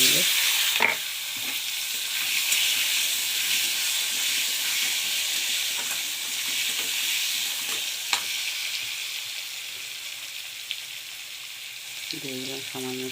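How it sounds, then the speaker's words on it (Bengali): Potatoes and black cumin frying in a pan, a loud steady sizzle and hiss with occasional stirring clinks, continuous throughout, with a brief voice near the end. "এই আমি দিয়ে দিলাম কালো জিরে, দিয়ে দিলাম আলুগুলো,"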